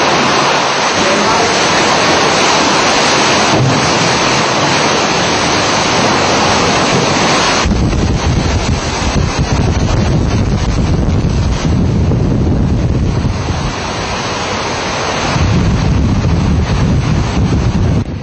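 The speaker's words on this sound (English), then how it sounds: "See the water get sucked out and then it comes right back in." Hurricane Katrina storm surge pounds ashore with loud, continuous roaring wind and crashing, churning waves, a dense unbroken wall of water and gusting wind noise buffeting the microphone throughout.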